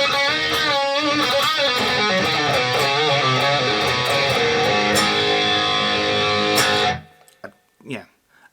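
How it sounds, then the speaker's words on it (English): Electric guitar played through a Boss Katana amp with a Rat distortion pedal and a touch of reverb, a loud, steady distorted rhythm part for about seven seconds that stops abruptly, leaving faint handling noises. "So it's a great all-round rhythm guitar sound."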